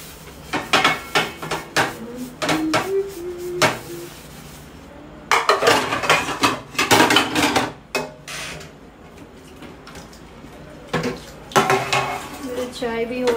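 Dishes, pots and metal utensils being washed by hand in a home kitchen, with repeated sharp clanks and scrapes in irregular bursts, close and fairly loud, with brief pauses between.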